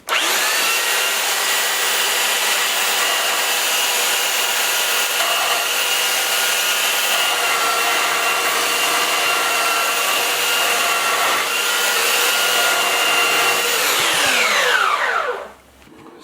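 Belt sander running on birch-veneer 3/4 inch plywood cabinet doors, a steady loud whine and abrasive roar for about fifteen seconds before spinning down at the end.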